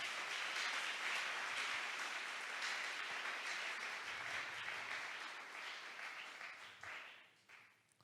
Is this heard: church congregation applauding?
yes